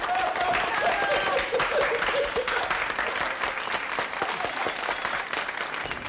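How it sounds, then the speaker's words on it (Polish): Steady audience applause fills the space, dense clapping mixed with a few cheering voices, sustained and moderately loud as an effect within a recited children's poem. "I bez końca trwały wrzaski, brawa, bisy i oklaski."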